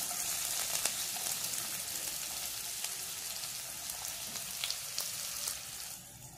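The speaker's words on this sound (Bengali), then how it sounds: "এবারে আমি একে একে এই গরম তেলের মধ্যে এইসব জিনিসগুলো দিয়ে দেব।" Chopped onion and chilli fry in hot oil for Chinese-style Maggi, making a steady, dense sizzle close by with a few faint pops. The sizzle eases off slightly at the end.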